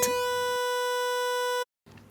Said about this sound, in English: Basically it's a square wave with a touch of noise.